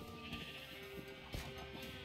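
Sheep bleating in a farming video game, a steady, fairly loud call set against continuous background game sound, with no talking.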